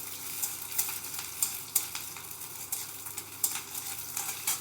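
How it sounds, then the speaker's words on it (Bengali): Chana dal and green chillies sizzle steadily in hot oil, close up, while a spoon stirs them with regular scraping strokes and small clinks. "তেলটা গরম হয়ে গেছে, এখন দিয়ে দিচ্ছি কিছুটা ছোলার ডাল আর কাঁচা লঙ্কা। এটা একটু নেড়ে চেড়ে নিচ্ছি।"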